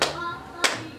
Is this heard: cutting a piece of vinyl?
no